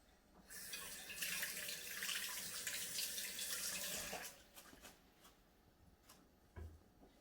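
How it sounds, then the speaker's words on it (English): Hands washed under a running kitchen tap after handling sticky sweetener for a smoothie: a steady rush of water for about four seconds, then stops, followed by a few faint clicks and a soft thud. "So let me wash my hands."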